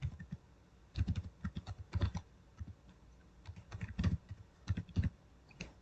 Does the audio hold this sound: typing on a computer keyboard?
yes